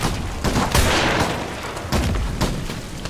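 Gunfire in the horror video game Amnesia: The Bunker: a dense, loud volley of shots with heavy booming blasts that rolls on continuously for about three seconds, without talk.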